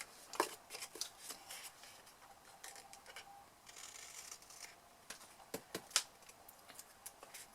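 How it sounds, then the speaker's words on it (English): Scissors trim the edge of a paper tab on a handmade papercraft carrier, a series of quiet crisp snips and rustles, irregular and faint, with no talking. "It's getting your scissors the right way, getting the right angle."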